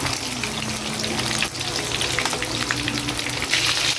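Meatballs made from ground meat frying in a pan with a steady loud sizzle and crackle, close up and unbroken, with no talking.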